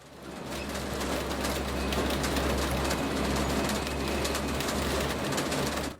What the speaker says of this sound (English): We ride a train underground there.